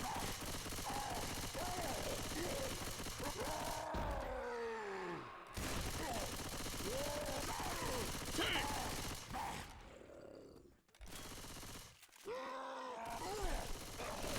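Gunfire in a Left 4 Dead style versus match as players shoot down a tank stuck in place, dense continuous rattling shots with groans and game effects, brief gaps, commentary voices over it.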